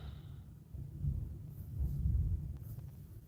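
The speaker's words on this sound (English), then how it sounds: "Rolling Thunder." Rolling thunder rumbling low and distant, swelling and fading over a few seconds with no talking.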